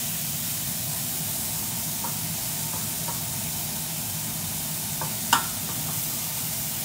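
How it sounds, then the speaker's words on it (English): Bacon sears in a preheated pan, giving a steady, close sizzle and hiss throughout, with a few faint clicks and one sharp tap near the end. "That's what you want. You want to hear that sizzle."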